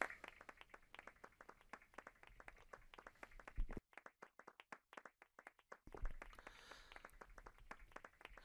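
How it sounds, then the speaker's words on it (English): Rapid, steady hand clapping in Final Fantasy VIII, fairly close, continuing for several seconds with a brief drop to isolated claps before the full applause resumes. "Actually swallowed his pride and started clapping."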